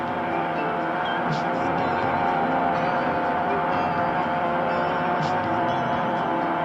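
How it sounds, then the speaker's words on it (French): Small aircraft engine droning steadily in flight at about 2000 feet over the Garonne river, a continuous loud hum filling the cabin with no break. "on écoute le moteur."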